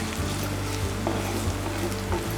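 Mustard seeds, chopped onion and curry leaves sauté in oil in a clay pot for bitter gourd poriyal, giving a steady, close sizzle with faint stirring scrapes and no talk.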